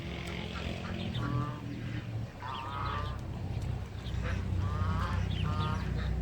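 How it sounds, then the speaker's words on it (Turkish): Geese and ducks squabble in the water, repeated nasal honks and quacks in short bursts over a steady background murmur, moderately distant. "Yani kazlar, ördekler seviyor yani suyun içinde böyle kavga etmeyi"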